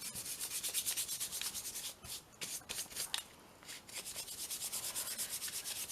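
Close, steady back-and-forth rubbing as colour is worked onto gesso-textured paper in a mixed media collage, a rhythmic scratchy brushing with a few brief pauses, no talking.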